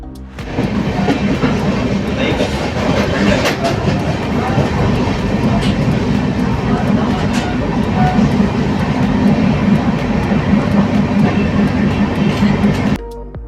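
A passenger train bound for Delhi rumbles along the rails with a loud, continuous, dense roar and scattered clicks, heard close from inside the carriage for the whole stretch, then cuts off abruptly near the end.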